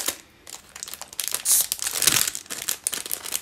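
Plastic packaging from a Shein haul crinkles and rustles close up in several uneven bursts, louder in the middle, with no talking.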